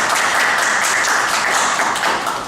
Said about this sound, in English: Let's give everybody a round of applause here